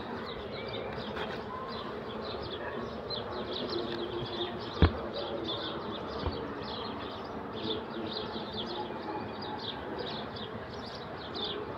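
Honeybees hum in a steady, dense buzz at an open hive during brood-frame inspection in mild weather, continuous throughout with one sharp click midway and a faint knock later.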